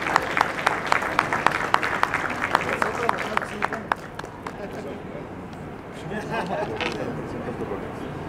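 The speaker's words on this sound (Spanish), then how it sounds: "le damos un aplauso" An audience at a newspaper staff celebration claps for a 39-year veteran employee named Celso, loud sharp clapping with distinct hand claps up front, thinning out into crowd chatter and murmuring voices.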